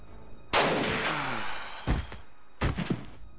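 Gunshots in the tactical game Jagged Alliance 2, three sharp reports spaced about a second apart, the first loudest with a short ringing tail, the others followed by brief thuds.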